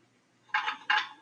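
Salt being stirred into a solvent in laboratory glassware, heard as three bright clinking, scraping bursts of stirring that start after a quiet moment, fairly close and with no talk over them.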